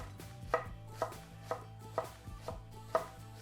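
A knife chops young cabbage steadily on a board, sharp regular strikes about every half second, close up, with a low hum underneath and no speech.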